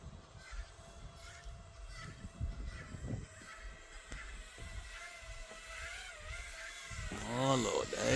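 A thermal drone for deer tracking, running Betaflight position hold, descends with a steady motor whine that rises in pitch and wavers as it comes closer and louder near the end, while a person talks over it.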